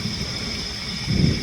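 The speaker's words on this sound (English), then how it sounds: "This rain's helping, it's making for quiet access" Rain falls in autumn woods during a bowhunting approach to a stand, a steady hiss overhead that swells with a low rumble near the end, with no talk.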